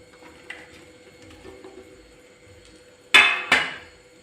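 Fried beef being stirred into pickle masala in a pan, with a couple of sharp clanks of a utensil against metal near the end after a quieter stretch of faint scraping.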